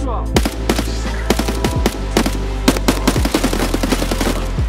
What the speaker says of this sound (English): I'm getting shot by somebody else behind